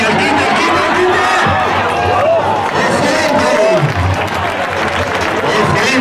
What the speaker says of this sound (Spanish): Gran ovación a este toro